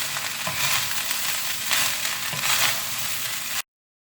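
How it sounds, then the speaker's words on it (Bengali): Sweet vegetable fried rice with sugar sizzles in a pan while being stirred and mixed. A continuous frying hiss carries periodic scraping stirs up close, then cuts off abruptly. "এবার ভালো করে মিশিয়ে নেব।"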